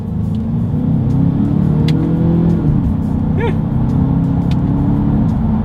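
A 2023 Genesis G70 accelerates hard with a loud, steady engine drone heard from inside the car, and the pitch dips and rises again as a paddle-shifter gear change comes about halfway through.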